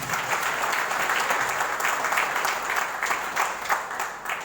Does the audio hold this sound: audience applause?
yes